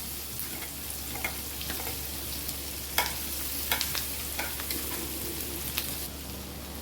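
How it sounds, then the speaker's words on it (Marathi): Onion, capsicum, carrot, green chilli and garlic frying in a pan for soya tikki, a steady soft sizzle with occasional stirring clicks and scrapes, close and alone. "आता चांगलं आपण फ्राय करून घेऊया"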